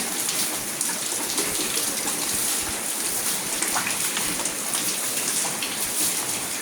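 Steady, loud rain hisses continuously on a surface nearby, a dense wash of drops with no pauses.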